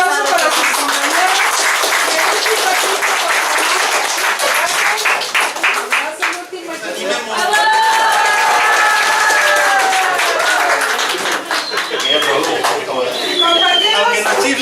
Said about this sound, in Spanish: pues un aplauso para sus compañeros